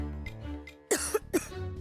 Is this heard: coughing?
yes